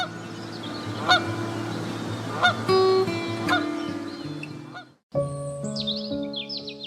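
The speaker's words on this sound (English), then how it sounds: "These pre-migratory gatherings can reach thousands of individuals and transform bays into noisy bird conferences." A large flock of birds gathers before migration in a Yellowstone bay, sending out a busy chorus of overlapping honking calls, some close and loud, others fainter, in an irregular, continuous clamor.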